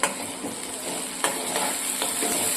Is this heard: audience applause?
no